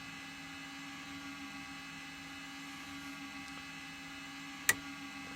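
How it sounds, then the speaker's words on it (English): Flight compartment fans running in a Twin Otter flight simulator game, a steady low whirring hum with tonal whine, constant and even throughout, with a single sharp click near the end. "Flight compartment fans on."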